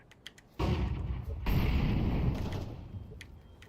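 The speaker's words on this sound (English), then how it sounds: "Throw in the flashbang." A flashbang grenade in Counter-Strike, a sudden loud blast that rings out into a sustained, roaring wash, with a second surge about a second later that slowly fades.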